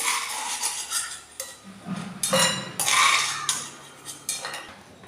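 Golden roasted vermicelli for semiya payasam scraped from a pan into another vessel, with repeated metallic clinks and scrapes of a spoon against metal cookware, coming in short irregular bursts at close range.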